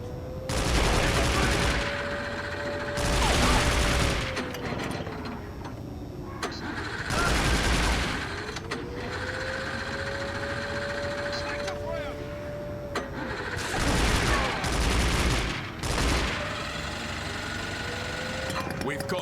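Gunfire in James Bond 007: Nightfire comes as repeated bursts of rapid automatic shots, several separate volleys spread across the span. A car engine drones underneath, and voices talk in between.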